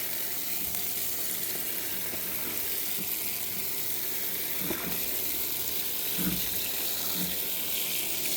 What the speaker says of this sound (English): Just a real good wash down.